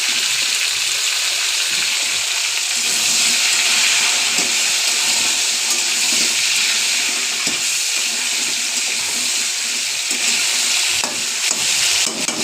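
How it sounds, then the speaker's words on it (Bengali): Potato, cauliflower and eggplant pieces stir-fried in hot oil, giving a loud, steady close-up sizzle that runs throughout with faint stirring scrapes and no voices. "আলু, ফুলকপি, বেগুন, সব তরকারিগুলো আমি দিয়ে হালকা করে একটু লেগে নেব।"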